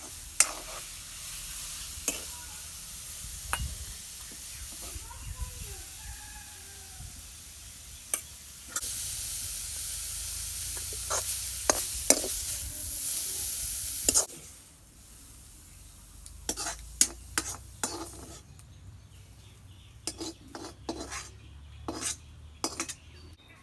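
Pumpkin leaf greens fry and get stirred in a pan, with a steady sizzle broken by sharp scrapes and clinks of a utensil against the metal, then a quieter stretch of scattered taps and stirring near the end.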